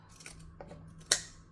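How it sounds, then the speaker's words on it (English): Zigzag pinking scissors chop through several layers of vinyl for a mini crossbody bag, making a few close, crisp snips, with the last cut the sharpest and loudest. "Again with our zigzag scissors, cut off the curves."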